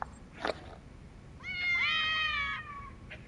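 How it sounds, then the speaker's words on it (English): A cat in the video game Lost Judgment gives one clear, drawn-out meow, preceded by a short faint sound, with no talking. "I hear a cat!"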